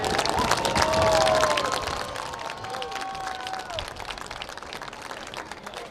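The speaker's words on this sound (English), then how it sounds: "Let's give our visitors a round of applause," A stadium crowd at a high school playoff football game applauds and cheers for a visiting marching band after its halftime show, a broad wash of clapping with whistles and shouts, loudest early and then settling to a steady roar.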